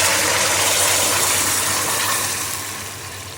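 Water poured into a pot of spiced rice makes a steady, loud rushing hiss that holds close by and gradually tapers toward the end.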